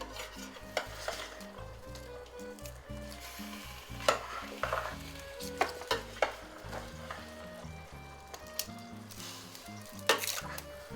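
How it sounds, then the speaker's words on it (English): Homemade ravioli filling is stirred in a pan, giving a soft, steady sizzle broken by repeated scraping and clinks of a utensil against the pan, with sharper knocks now and then and no talk. "Sure, you can stir it. Keep it moving a little."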